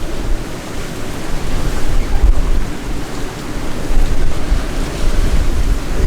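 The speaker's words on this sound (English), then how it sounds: "we've got waves topping the seawall over here" Steady roar of surf from Hurricane Nicole crashing against and topping a seawall, loud and continuous with buffeting wind noise across the microphone throughout.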